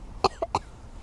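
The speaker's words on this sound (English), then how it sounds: "Thanks for coughing all in it." A person outdoors in the cold woods gives a short burst of two or three dry coughs, fairly close and moderately loud, with no speech.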